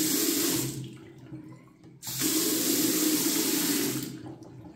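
Kitchen faucet being tested after a low-pressure and dripping fix, water gushing loudly in two bursts with a brief drop in between, close and steady without speech.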